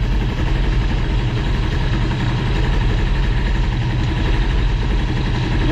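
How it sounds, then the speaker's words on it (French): A Bidalot RF 50 WR 50cc motorcycle engine idling steadily during running-in with a heavier variator fitted, a loud, even, close-up buzzing putter that holds constant without revving and with no speech. "Donc là, le ralenti tient très bien."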